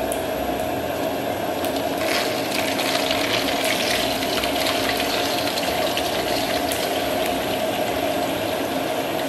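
Washed, drained pork belly sizzles slowly in a wok of moderately warm oil for braised pork, a steady dense hiss and crackle that stays even throughout with no talking.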